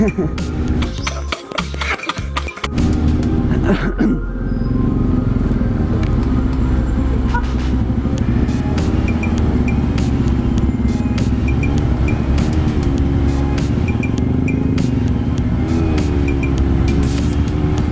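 Engine drone and surrounding traffic rumble while riding a motorcycle stuck in a hot, congested traffic jam, with a steady continuous roar and a few louder thumps near the start.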